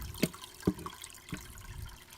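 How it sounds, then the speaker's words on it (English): Filter floss from an aquarium power filter is rinsed in RODI water, giving faint splashes and gurgles with about three short bursts over a quiet background of trickling. "rinse them out with RODI water"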